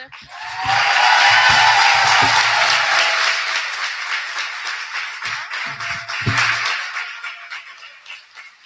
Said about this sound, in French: je vous demande d'applaudir cette étudiante